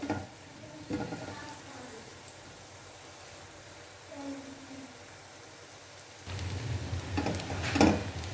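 Onions fry in a pan for a masala fish curry with a soft, steady sizzle, and occasional stirring scrapes grow louder and busier near the end.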